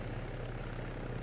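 Steady, loud rotor and engine drone of a helicopter flying in the military video game Arma 3, unbroken and close, with no speech over it.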